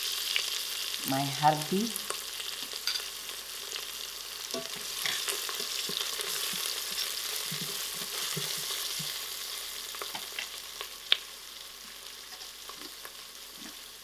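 Masala spices frying in oil in a pressure cooker for a mutton curry, giving a steady soft sizzle with occasional faint stirring clinks, close and quiet, plus a brief spoken phrase near the start.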